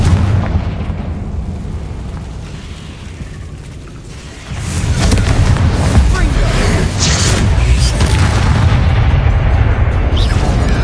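A Confringo fire spell detonates in Hogwarts Legacy on PlayStation 5, a heavy booming blast that swells partway through into a loud, sustained roaring rumble with crackling debris.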